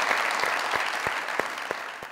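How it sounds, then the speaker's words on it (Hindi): A studio audience at a comedy show claps in a steady burst of applause, dense and continuous with a few louder claps standing out. "तालियों से बताइए जरा"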